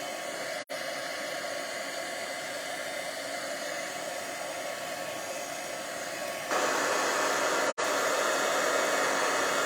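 A heat tool blows steadily and close by while drying stamped paper, a continuous loud whooshing hiss with two brief cut-outs that grows noticeably louder toward the end.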